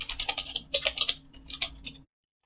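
Fast typing on a computer keyboard as an nmap command is entered, a quick close burst of clicking keystrokes lasting about two seconds, then silence.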